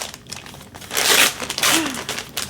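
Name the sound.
slicing and ripping open a plastic delivery package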